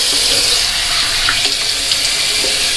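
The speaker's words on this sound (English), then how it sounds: "I'm going to wash my face now with some cool water." Cool tap water running into a sink for face washing, a loud, continuous splashing rush with small splatters and no voices over it.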